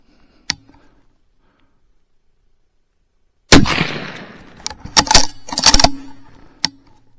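Several sharp Sako rifle shots fired at a range, a lone crack early followed by a cluster of loud, close reports with echoing tails and a couple of spaced shots after.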